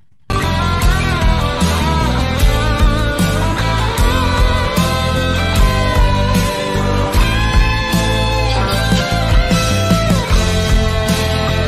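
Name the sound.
electric guitar playing a cover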